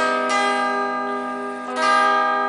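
A single augmented chord rings out, sustained and bright with bell-like tones, restruck once partway through and fading slightly, with no voices.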